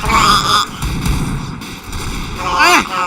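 Gunfire in a shooting video game, loud bursts of shots and booms close up, mixed with a tonal game effect sound and overlapping talk from a player.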